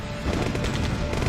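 Rockets firing in Command & Conquer: Tiberian Dawn, a 1995 real-time strategy game, set on a Nod mission at Oum Hadjer, Chad. Dense, continuous crackle of launches and blasts rolls steadily throughout at even loudness.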